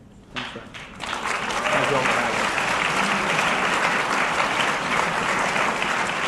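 Audience applause at a panel discussion on the 2012 election campaign, starting with a few scattered claps and then swelling within a second into full, sustained clapping from a large room.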